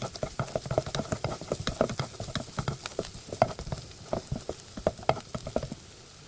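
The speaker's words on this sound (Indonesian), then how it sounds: "kita pertama-tama masukin dulu bawang merah, kemudian kita oseng-oseng sampai benar-benar harum" Shallots sizzle in a hot pan while being stir-fried for a chicken taichan dish, with a steady frying hiss broken by frequent quick scrapes and taps of a spatula stirring, close and moderately loud, no talking.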